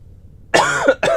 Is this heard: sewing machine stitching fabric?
no